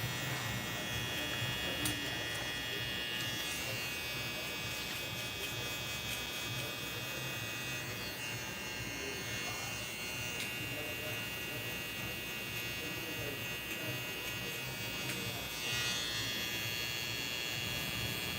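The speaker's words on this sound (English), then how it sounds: "So we will return to our trimmer." Electric hair trimmer buzzing steadily and loudly up close for the whole stretch, a continuous motor whine used while cleaning up a hairline, with no talking over it.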